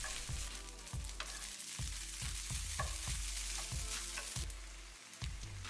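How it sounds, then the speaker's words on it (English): Rice stir-fried with kimchi juice sizzles steadily in a hot pan, while a utensil scrapes through it in a regular rhythm of about two strokes per second, close and loud, with no talking. "we're going to stir it around and make sure the rice absorbs all of that juice"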